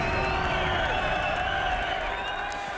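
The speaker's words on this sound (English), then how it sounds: "How about a big cheer for my winners of the Bob Jane Team March 1000?" A crowd at the Bathurst motor race cheers and applauds the winners of the Bob Jane T-Marts 1000, Mark Skaife and Jim Richards: a steady, dense wash of clapping and cheering, moderately loud and unbroken.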